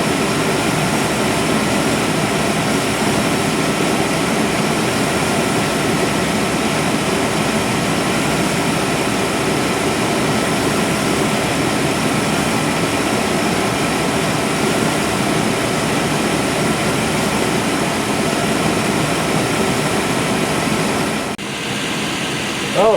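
A Chevy GMC truck engine idles steadily after a fuel filter replacement, a constant close rumble with a slight flutter, running evenly for a long stretch before a brief dip near the end.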